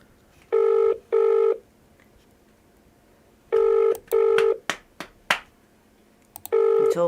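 A telephone call is placed and rings out with a repeating double-burst ring tone. Three loud pairs of tones are separated by pauses, and a few sharp clicks fall between the second and third pairs.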